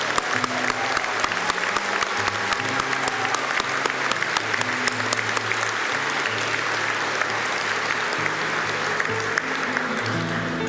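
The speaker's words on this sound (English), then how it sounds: "Please applaud our science graduates." Sustained applause fills a CÉGEP Heritage College graduation ceremony in 2019, the audience clapping steadily for the science graduates, dense and even throughout, with a low hum of music or crowd underneath.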